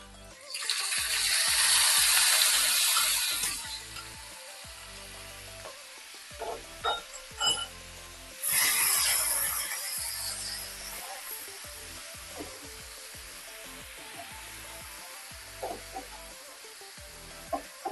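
Ginger, garlic, chili and chopped onion hit a hot pan with a loud sizzle that fades after a few seconds. A second burst of frying flares up midway, then settles into a quieter crackle with occasional clinks.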